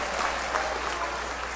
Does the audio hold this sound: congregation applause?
yes